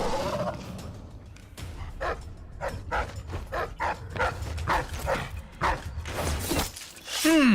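Dog barking in the stealth video game Dishonored 2, a run of short repeated barks and yips at steady rhythm, fairly close, with someone speaking over parts of it.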